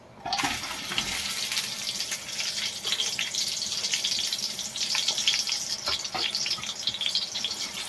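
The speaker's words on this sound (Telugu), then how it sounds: "ఇప్పుడు ఇది డీప్ ఫ్రై చేసుకుందాం గోల్డెన్ కలర్ వచ్చే వరకు" Deep frying in oil until golden while making chicken biryani: a steady, fairly quiet hiss and crackle of bubbling oil with scattered pops, continuous throughout.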